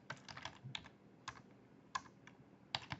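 Typing on a computer keyboard: quick irregular bursts of close, crisp key clicks with short pauses between groups, alone in a quiet room.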